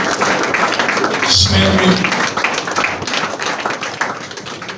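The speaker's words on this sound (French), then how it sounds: "Ça mérite beaucoup d'applaudissements." An audience applauds at an awards evening, a dense, even wash of clapping that holds steady throughout while a voice speaks over it.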